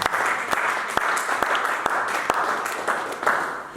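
A church congregation applauds in a hall, a steady wash of clapping with several sharp, distinct claps standing out near the microphone, continuing for a few seconds.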